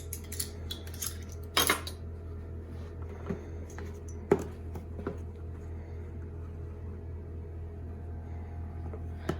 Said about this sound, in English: I ordered these new measuring spoons. I kind of like them. They're magnetic.